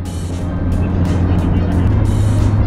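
An automatic car driving on an English road, its engine and tyre rumble forming a steady, fairly loud low drone throughout with no one talking.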